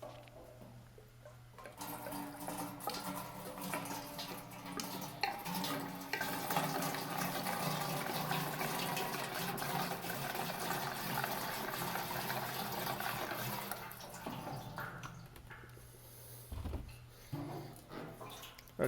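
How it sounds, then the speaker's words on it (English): Gasoline poured into a metal jerry can makes a steady, close gurgling splash of liquid for roughly twelve seconds, then tapers off into quieter handling sounds. "I'm going to try and add between a pint and a quart of gasoline to this can."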